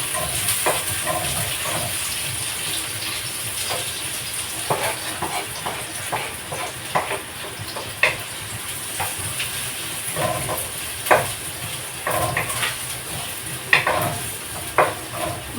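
Garlic and onion fry in a pan for adobo, giving a steady close hiss of sizzling oil broken by frequent scrapes and taps of a utensil stirring.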